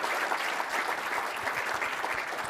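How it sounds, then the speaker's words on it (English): An audience at a tech conference gives a warm round of applause for two presenters, dense continuous clapping filling a large hall, moderately distant. "How about a big round of applause for Sam and Kyle?"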